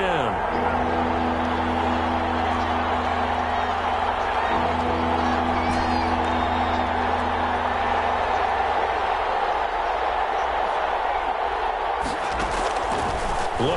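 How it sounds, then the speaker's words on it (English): Crowd noise from a American football video game on PS4 forms a continuous stadium roar that lasts the whole stretch and sits under play-by-play commentary. "Crowd getting in it a bit already."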